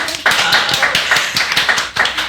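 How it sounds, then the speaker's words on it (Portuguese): An audience gives a short burst of applause at a talk on faith and depression, a dense run of claps from several people, close and lively, fading slightly at the end. "uma salva de palmas"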